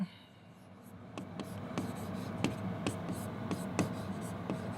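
A physics question being written out by hand in a quiet room, with soft scratching strokes and regular taps of the pen as each word goes down, close and faint.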